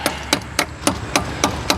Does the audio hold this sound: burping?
no